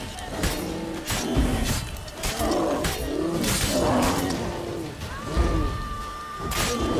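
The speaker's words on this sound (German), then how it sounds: "Oh, noch ein Bär." A bear in The Witcher 3 growls and roars in repeated bursts, loud and close, with a few sharp impacts mixed in.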